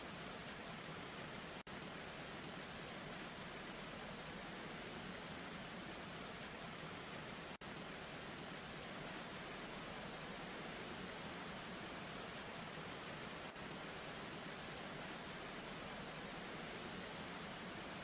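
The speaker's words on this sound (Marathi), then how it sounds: "आता रेनला मी क्लिक करतो पहा" Steady, loud rain sound effect from the Motion Leap app, a dense continuous hiss of falling rain with no pauses, alone without voices.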